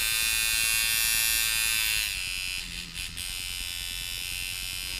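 A Mojobox impact unit running at 6 volts gives off a loud, steady electric buzz that holds throughout, dipping slightly in strength partway through.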